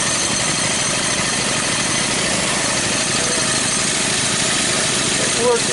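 A car engine idles in neutral with a steady, loud, rough mechanical drone that holds level throughout, with no revving or gear changes heard.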